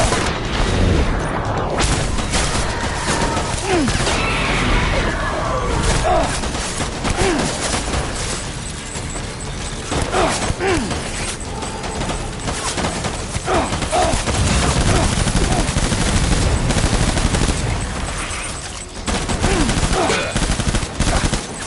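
Sustained gunfire in Death Stranding rattles loudly and continuously, with machine-gun bursts and heavier booming shots overlapping in a chaotic firefight, shouted voices breaking through now and then.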